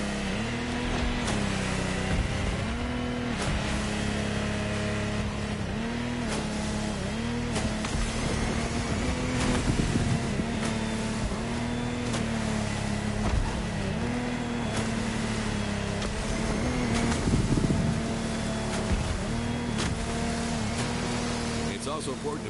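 A continuous droning speedboat engine from a Lamborghini boat in the video game The Crew Motorfest roars at constant pitch with rises and dips in revving, under a voice speaking throughout.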